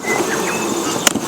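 Honey bees drone in a dense, continuous buzz as a hive is opened for a late-summer foulbrood inspection, close and steady, with a brief sharp click near the end.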